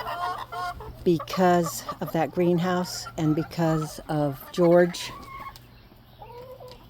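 Backyard chickens cluck and squawk near the microphone in a garden while a person talks over them, with a few more squawks trailing off at the end.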